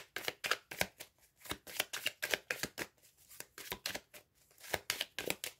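Tarot cards being shuffled and flipped, a fast series of crisp papery riffles and slaps in short bursts with brief pauses, close and fairly quiet, with no talking.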